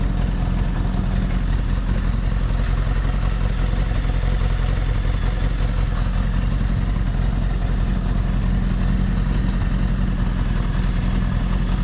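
A restored 1975 Honda Goldwing engine idling just below 1,000 RPM with the choke partly out, a steady low, loud rumble that lugs slightly and runs continuously throughout.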